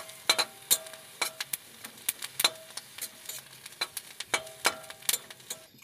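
Neem leaves frying in a wok, giving intermittent crackles and spitting pops at an irregular pace, close and fairly quiet with no talk.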